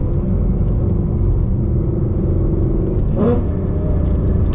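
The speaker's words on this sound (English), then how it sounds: "Let's see what the rev match sounds like with the windows up." Coyote V8 in a Gen 2 Mustang revs sharply near the end after a steady low engine drone, heard from inside the cabin with the windows up; the blip is short and rises quickly.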